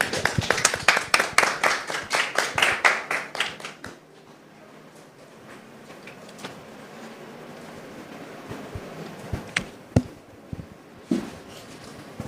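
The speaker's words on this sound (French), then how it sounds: "Merci de recevoir Anissé sous vos applaudissements." Studio audience claps loudly and rhythmically to welcome a guest onto a talk show set, strong hand claps for about four seconds, then the clapping cuts off and a few scattered claps and faint studio noise follow.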